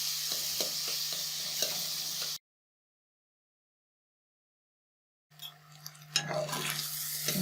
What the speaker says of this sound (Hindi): तकरीबन 10 मिनट लग जाएंगे इसको भूनते हुए